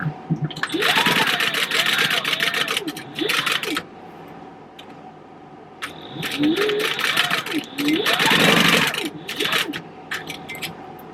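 A sewing machine stitches along the edge of a fabric purse in several quick bursts of rapid whirring, stopping and restarting, while a person talks over and between the runs.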